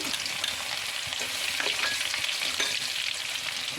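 Chopped ginger fries in hot oil for beetroot pickle. A dense, even sizzle is heard close up, with faint stirring scrapes and no speech.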